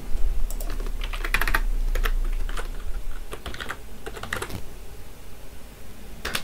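Keys clack in quick bursts as code is typed on a computer keyboard, close and clear with short pauses between runs of keystrokes and no voices.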